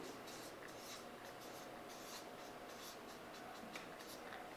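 Pen writing on paper, with a faint, continuous scratching of short strokes, close and very quiet.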